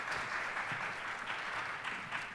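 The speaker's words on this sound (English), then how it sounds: "If you would give them a round of applause." An audience at a school chorus event applauds, a dense, steady clapping filling the hall for a couple of seconds.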